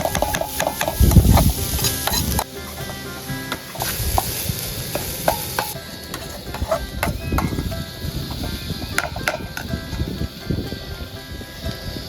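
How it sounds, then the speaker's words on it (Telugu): Sliced onions fry in a pan with cumin, cardamom, cinnamon and bay leaf for a village-style egg masala curry: a continuous crackling sizzle with repeated scraping and clinking of a stirring spoon, close and uninterrupted by talk. "ఉల్లిగడ్డలు మంచి ఎర్రగా గోలించుకోవాలి"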